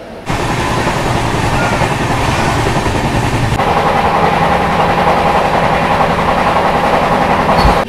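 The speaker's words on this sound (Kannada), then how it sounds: "Vishwamanava express crossing." The Vishwamanava Express rumbles steadily past at close range, its loud, continuous roar of wheels and engine filling the whole stretch with no voices.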